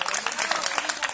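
A crowd at a Hindu wedding gathering bursts into dense, steady applause for the host, a continuous wash of many hands clapping close and fairly loud.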